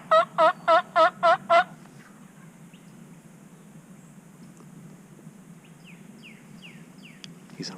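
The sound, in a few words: wild turkey gobbling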